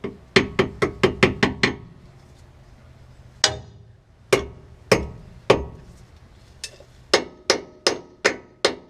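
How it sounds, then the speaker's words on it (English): Loud metallic hammer strikes on a stuck sway bar link on a 2007-2013 Chevy Silverado 1500, a quick run of seven ringing blows, then slower spaced hits with pauses, close and clear. "gonna try it with the hammer first."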